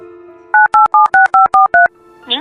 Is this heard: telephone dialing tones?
yes